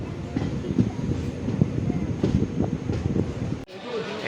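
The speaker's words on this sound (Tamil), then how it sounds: "நம்ம ட்ரெயின் ஒரு 5 நிமிஷம் ஏர்லியாக வந்துருச்சு." A train rumbles in at Mayiladuthurai Junction with rhythmic clacks of wheels over rail joints, a low steady roar close by that cuts off abruptly near the end.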